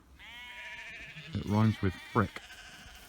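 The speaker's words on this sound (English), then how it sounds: "sheep are happy, they like this dry weather" Sheep on a small farm in dry midsummer weather bleat several times close by, a few wavering calls in a row, while someone talks over an outdoor background.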